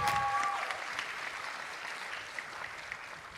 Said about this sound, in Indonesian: Kita berikan tepuk tangan bagi setiap yang ada